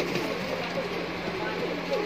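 Allahabadi high flier pigeons coo in soft, low, burbling calls over a steady background hum, fairly close and continuous, at a pigeon loft.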